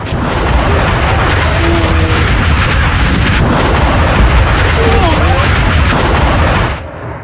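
A sustained, heavy roar of a missile strike explosion fills the clip at high loudness, with faint voices and tonal wails beneath, then cuts off abruptly near the end.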